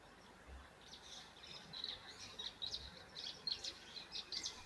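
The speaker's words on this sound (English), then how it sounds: "Have a listen, you can hear those white-browed sparrow weavers." White-browed sparrow weavers chatter at a waterhole, a run of short, bright chirps and twitters coming in irregular bursts. They sound fairly distant and soft over a quiet outdoor hiss, with no talking.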